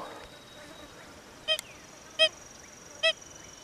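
Three short, fairly faint target beeps come from a Deus metal detector after foil is removed from the target. They are evenly spaced over a steady hiss.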